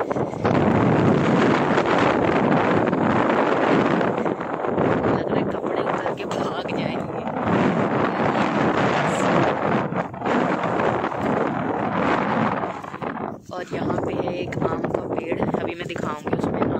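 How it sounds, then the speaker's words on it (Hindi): Strong wind buffets across open farm fields of harvested wheat, a constant loud roar of microphone-battering gusts that hardly lets up, with a voice speaking partly underneath. "इतनी तेज हवा है"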